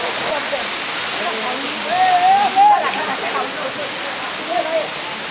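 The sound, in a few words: Napitta Chhora waterfall, Sitakunda, Chittagong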